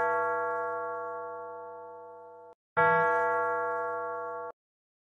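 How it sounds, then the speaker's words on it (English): A bell rings two clear, sustained tones: one long strike that slowly decays, a brief gap, then a second strike ringing out again, loud and alone with no talk. "Bell."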